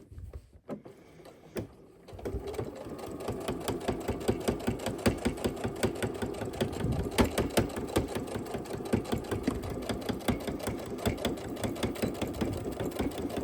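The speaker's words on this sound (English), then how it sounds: "sew a straight seam right across here using that 3/8 inch measurement" Electric sewing machine stitching a straight seam with a 3/8 inch allowance on a beginner zipper bag, a steady rapid mechanical chatter running continuously after a brief start, close and fairly loud, with no talking.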